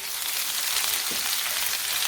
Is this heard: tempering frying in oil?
yes